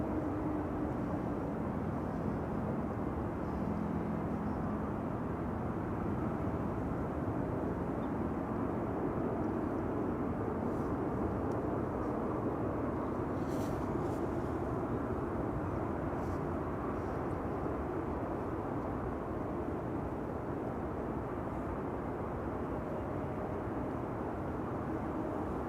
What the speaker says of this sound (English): Alright, Condor is about to turn final.